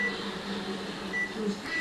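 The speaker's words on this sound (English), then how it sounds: "set my timer on my microwave" A microwave oven's timer is set, giving a few short, thin electronic beeps at scattered intervals over a steady low hum in a kitchen while soup cooks.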